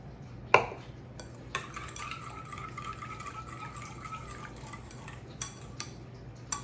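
A whisk stirs buttermilk into an egg wash in a bowl, with a sharp clink at the start, then a steady scraping rattle of metal against the dish and a few more clinks near the end.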